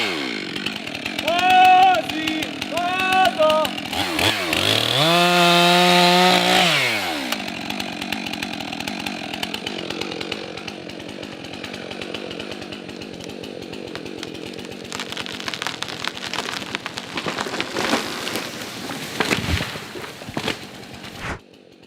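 A chainsaw fells a tree outdoors, its engine revving up and down loudly and then dropping to a rough idle, while people talk over it.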